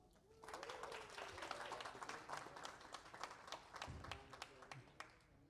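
A round of applause from wedding guests, steady rapid clapping that swells and then tapers off, with faint voices in the background.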